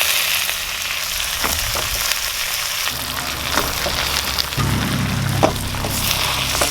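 Bitter melon leaves hit a hot pan with pork and sizzle steadily, the frying growing louder partway through, with light stirring clatter and scrapes over the continuous hiss.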